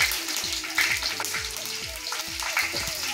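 Dried red chilli, three bay leaves and five-spice seeds hitting hot oil in a pan for a banana-flower curry, giving a steady close sizzle with scattered sharp pops and crackles throughout.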